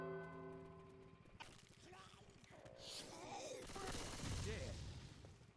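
Friendly gunfire in a video game: rapid bursts of shots crackle over a sustained tone, then merge with rising noise and gasps, while a voice talks over part of it.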